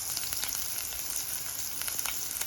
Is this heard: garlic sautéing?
yes